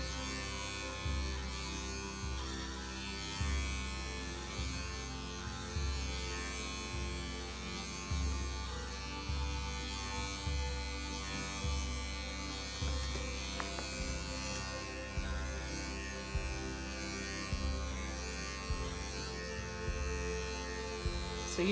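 Electric clippers trimming a dog's coat during a field trim groom, a steady close buzzing hum with a regular pulsing rhythm as the blades move through the fur, with no talking.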